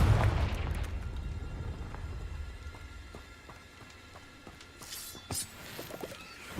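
A Confringo blasting-curse explosion in the Hogwarts Legacy video game bursts loudly at the start, then decays into a quiet rumble with scattered faint pops and crackles.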